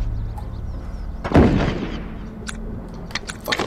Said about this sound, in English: Fuck a pipe bomb, you guys.